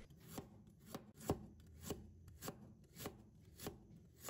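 Knife chopping fresh ginger on a cutting board: eight crisp, evenly spaced thunks about every half second, close and fairly quiet, with no voices.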